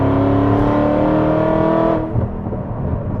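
A tuned Cadillac engine revs under throttle in sixth gear, loud and close with a rising tonal roar that drops off sharply as the throttle is released.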